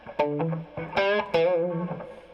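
Electric guitar notes played through an amp with effects, a few plucked phrases ringing out with a slightly warbling, processed tone.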